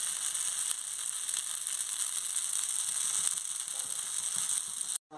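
A vermicelli dosa fries in oil on a pan, giving a continuous bright, hissing sizzle at an even level that cuts off abruptly at the end.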